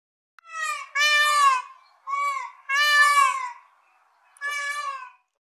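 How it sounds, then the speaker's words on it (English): A peacock gives a series of loud, wailing, meow-like cries, close and clear, in four or five separate calls with short silent gaps between them. "Peacock."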